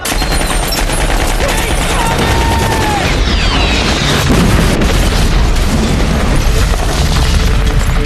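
Battle scene from the 2001 Ridley Scott war film Black Hawk Down: heavy booms and bursts of rapid gunfire crowd together continuously at high volume, with a few whistling streaks and chaotic clatter layered over a constant rumble.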